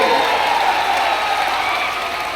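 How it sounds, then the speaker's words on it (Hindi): A crowd at a political rally applauds loudly, a dense and continuous wash of clapping throughout. "जोर से ताली बजाओ"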